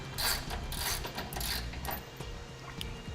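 A ratchet wrench works a 21mm bolt loose from the frame rail of a 2012 Chevrolet Colorado, giving a run of quick mechanical clicking bursts at close range with no talk.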